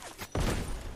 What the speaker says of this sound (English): they're shooting me from the fucking island